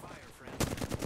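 A burst of rapid gunfire in the Apex Legends video game comes in as quick loud repeated shots over the last half second, after a quieter stretch of game sound.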